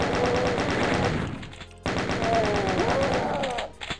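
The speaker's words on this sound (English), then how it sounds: "I got like the chain gun for this." Rapid automatic chaingun fire from Doom 2, a dense continuous burst that cuts out briefly midway, then resumes loud and steady with game sound effects mixed in.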